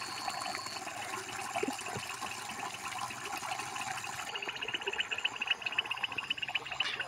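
Lots of water gushing in a steady, continuous rush at a moderate level, with no one talking over it.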